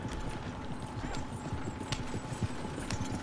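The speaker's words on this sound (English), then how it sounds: "Horses won't go this fast for long." Horses gallop in Red Dead Redemption, a steady rapid clip-clop of hooves on dirt running throughout at moderate loudness, with faint background rumble and no talking.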